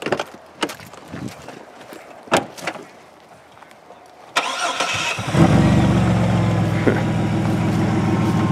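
A 2002 Chevy Blazer V6 with no muffler or tailpipe, heard first as clicks and knocks around the open hood, then cranking and firing into a loud, raw, steady idle close by.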